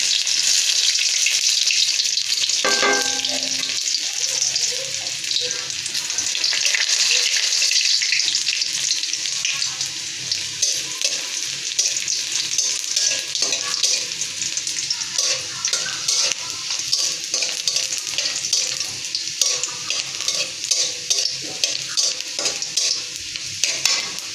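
Cumin seeds and garlic fry in hot oil, a loud continuous close sizzle with crackling and stirring scrapes that stays steady throughout, becoming slightly choppier and more spattery toward the end.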